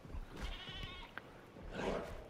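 Goats bleat while Carnotaurs headbutt them in Jurassic World Evolution 2, with a couple of quavering, nasal bleats at moderate volume over a low game ambience.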